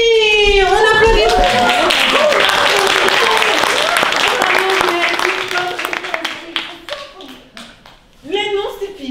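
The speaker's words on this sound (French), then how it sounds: "Oui, on applaudit." A small group claps loudly and briefly while several voices call out and talk over the applause, then the clapping thins out and the chatter carries on.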